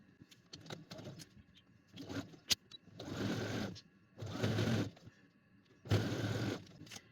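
A sewing machine stitches a girl's sleeve in three short, fairly quiet bursts, each about a second long, separated by soft handling noises and clicks, close by.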